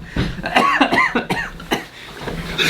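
A man with a smoker's cough, a Chinese American long settled in Colorado, lets out a series of harsh, raspy coughs and throat clearing, loud and close, over roughly two and a half seconds.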